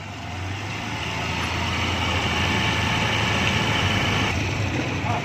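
A Honda CB 125 motorcycle with an unusually noisy engine runs steadily at idle nearby, a continuous mechanical rattle and hum that swells slightly and holds even throughout.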